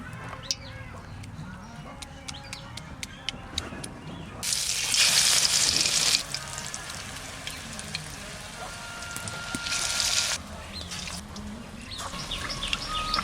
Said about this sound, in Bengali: আস্তে আস্তে জাল দিয়ে ভাজা করতে হবে নাহলে ভেতরে কাঁচা থাকবে